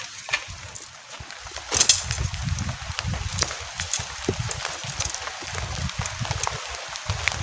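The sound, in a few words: heavy rain on camping shelter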